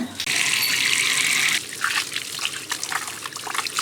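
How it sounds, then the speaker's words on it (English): Water runs and dribbles from a tap in a tiny home, first as a steady loud rush and then as an uneven splashing trickle, close by and with no one talking. "It's a bit of a dribbling mess, isn't it?"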